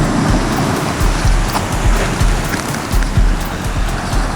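Sea waves break on the shore at Nice in a continuous loud wash of surf, with gusty wind buffeting the microphone throughout and no talking.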